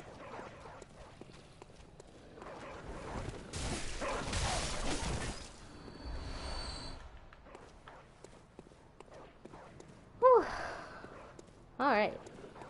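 Hostile dogs in the video game Bloodborne, in the Central Yharnam area, give two sharp barks near the end, loud and abrupt after scuffling footsteps and combat noise, with a person talking throughout.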